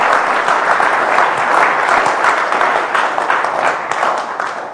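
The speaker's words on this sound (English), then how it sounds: "If you could do a big round of applause" Audience applause at the end of a talk at the HAR 2009 hacker conference, a dense, steady roar of many hands clapping close by for nearly five seconds, fading slightly toward the end with no speech over it.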